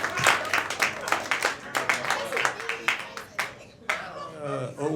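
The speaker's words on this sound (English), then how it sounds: "Get the clap back going" A comedy club audience clapping for a comedian being brought to the stage, rhythmic bursts of hand claps from the crowd with a host's voice shouting over them and a short gap near the end before the noise swells again.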